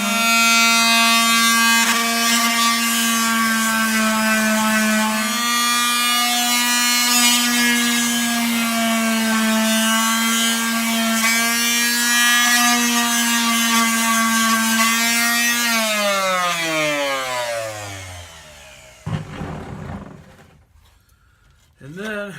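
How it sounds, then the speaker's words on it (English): Palm sander running on a wooden slide-top box, a steady buzzing whine held for about fifteen seconds, rising slightly, then spinning down and stopping, followed by brief handling noises. "So I'm going to palm sand this."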